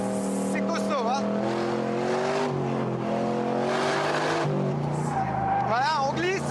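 An AC Mk VI car slides with loud, wavering tire squeals over a steady engine roar, the squeals coming in bursts near the end while someone talks throughout.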